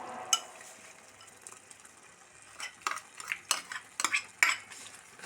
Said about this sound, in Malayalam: നന്നായി മിക്സാക്കി കൊടുക്കാം